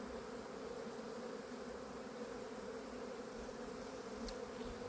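Honeybees hum at an open hive, a steady dense drone that holds evenly throughout at a moderate, close level, with no talking.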